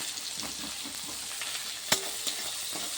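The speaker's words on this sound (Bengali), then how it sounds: "এর মধ্যে একটুখানি লবণ, একটু হলুদ দিয়ে দিলাম, দিয়ে একটু নেড়ে চেড়ে লাল করে নিয়ে" Lentils with salt and turmeric fry in a pan, a steady close sizzle under light scraping stirs and one sharp clack of the spoon against the pan partway through.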